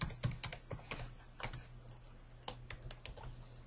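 Computer keyboard typing while logging in, a quick run of sharp, close key clicks in short bursts with brief pauses, no talking.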